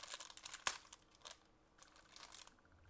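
A plastic bag of Lego pieces crinkles and tears open up close, with a sharp rip early on and then softer rustling.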